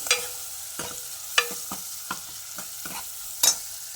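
Onion and green chillies fry in a pan for a carrot-tomato rasam: a faint, soft sizzle under a handful of sharp, irregular ladle clicks and scrapes, with no voices.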